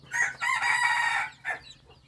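A yellow-strain red junglefowl rooster crows once nearby, a clear, shrill call with a short trailing note at the end.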